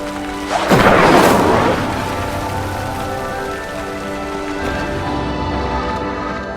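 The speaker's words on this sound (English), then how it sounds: "The flames make the pyre sink." In the Hogwarts Legacy video game, an Incendio spell sets a pyre alight and it sinks: a loud whooshing burst of flame near the start that settles into a low rumbling roar, fading slowly, with no voices.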